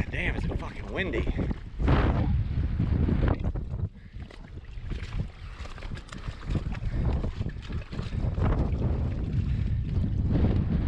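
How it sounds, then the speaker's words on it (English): Strong wind batters the microphone on a boat used for dredging in deep water, heavy roaring gusts rising and falling continuously, with brief muffled voices beneath. "God damn, is it fucking windy?"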